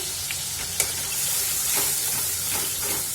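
Masala with black cumin and turmeric sizzling in hot oil while being stirred for a fish kalia, a steady close hiss with a few soft scraping stirs and small pops.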